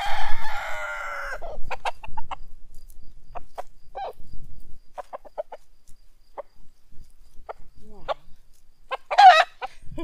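Chickens cluck in short, scattered bursts close by, and a rooster's crow opens the scene. Crickets chirp faintly underneath and a voice speaks briefly.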